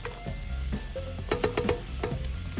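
Chopped onions going into a hot pan for a Filipino home-cooked dish, with a soft sizzle under clinks and scrapes of a utensil against the pan, several sharp metallic taps in the middle, close and busy.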